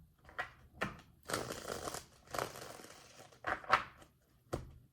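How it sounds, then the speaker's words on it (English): Tarot cards being shuffled by hand in several short bursts of riffling and sliding, close and moderately loud, separated by brief pauses. "2 more shuffles"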